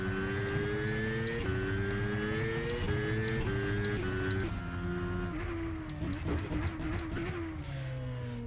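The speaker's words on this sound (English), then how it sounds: "We'll get the speed limiter on, first gear, and we'll pull out of the pits here at the Nürburgring in the F106." F106 race car in the rFactor game pulling out of the pits at the Nürburgring on the speed limiter in first gear, a loud, buzzing engine drone stepping through slight pitch rises and drops, heard alone.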